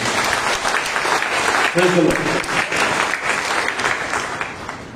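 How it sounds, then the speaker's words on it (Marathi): Loud audience clapping at a Monday Christian prayer meeting in honor of Saint Michael, patron of Manikpur, sustained for several seconds with voices and a brief shout mixed in before it tapers. "आपण जोरात टाळ्या वाजवू"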